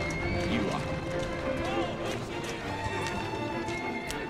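Hooves clip-clop at a quick running pace with a horse whinnying in Assassin's Creed Syndicate, under background game sounds and a talking voice.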